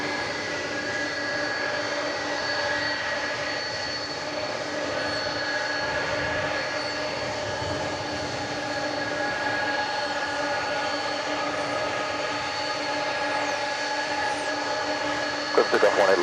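An American Airlines jet takes off from runway 18 left at DFW airport, its steady engine roar holding for the whole stretch, a low broad rumble with a thin whine on top, while talk runs over it.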